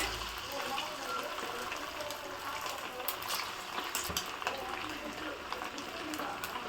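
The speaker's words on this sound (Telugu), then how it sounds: "ఇప్పుడు మనం మ్యారినేట్ చేసుకున్న చికెన్ ఫ్రై చేసుకుందాం." Marinated chicken for Goa-style chilli chicken fries in a pan with a continuous hissing sizzle, fairly quiet and steady. Faint scattered crackles and soft talk sit underneath.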